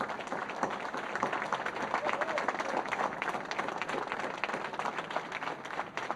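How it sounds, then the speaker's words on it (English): A room full of people gives a standing ovation, dense steady applause rising into continuous clapping that holds loud and even throughout, with a few faint voices underneath. "give Bhupendra Bhai a standing applause"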